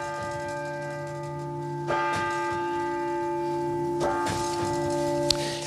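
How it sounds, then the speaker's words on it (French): A large church bell rings with a long, sustained hum, struck again twice at steady intervals, each toll blooming loudly then ringing on. "on va pouvoir donner l'heure sur la grosse cloche"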